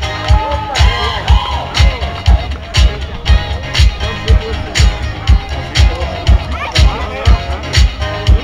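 Crowd at the finish of the 13th Weintraubenlauf footrace in 2013, cheering and shouting with rhythmic clapping or thumping beats throughout while an announcer talks over it.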